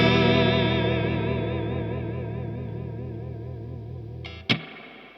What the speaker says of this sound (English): Being a bit conservative with the reverb there.